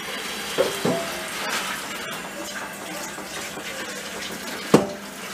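Water runs steadily while rinsing out the pot of a still used for distilling mash, with a continuous splashing wash and a few hollow metallic clunks from the pot being handled.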